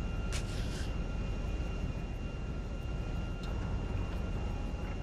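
Steady low airplane engine drone heard from inside a low-class aircraft flying toward Los Santos and Blaine County in GTA V online, continuous and moderately loud with a few faint clicks on top.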